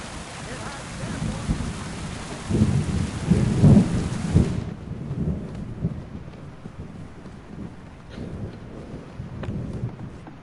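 A thunderstorm in the game Kingdom Come Deliverance II sends low rolling thunder over a steady hiss of rain. A loud rumble builds mid-way, then fades to quieter rain and wind.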